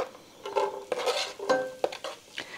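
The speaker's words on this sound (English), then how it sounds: "Okay, so now then I'm going to put in 1/2 of a chopped up onion." Half a chopped onion goes into a pot to sauté for loaded cauliflower soup, heard as scraping stirs and clinks of utensil on metal with a light sizzle underneath, close and fairly quiet.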